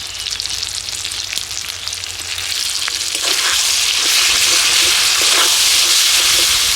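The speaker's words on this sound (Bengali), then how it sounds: "এবার আমি মশলাটা ভালো করে কষিয়ে নেব" Ground spice paste of cumin, coriander, dried chilli and turmeric fries in a pan with tomato, making a dense, close hissing sizzle that grows louder and fuller partway through.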